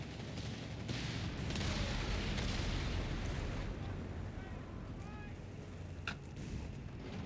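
Artillery fire rumbles through a Company of Heroes 3 battle, a dense wash of booms and blasts layered with overlapping explosions and distant shots, continuous and heavy, with faint game sounds and voices mixed in.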